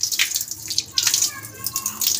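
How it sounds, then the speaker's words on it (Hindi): Water splashing and gushing from a repaired household tap that had been dripping, a steady close stream with a faint voice in the background. "देखिए पानी भी आ रहा है बराबर"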